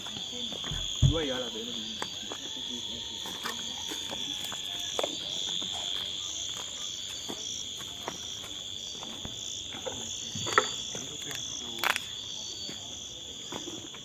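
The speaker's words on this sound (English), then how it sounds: "Those are sounds of crickets." Steady high-pitched cricket chirping fills the background continuously, with a few faint voices and rustling sounds nearby.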